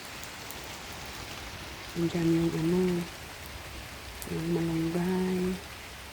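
Steady rain falls outdoors on a windy day, a soft, continuous hiss filling the background while a person talks over it in two short stretches.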